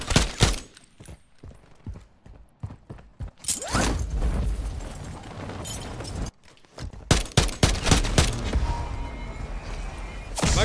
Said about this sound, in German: Magazin wechseln.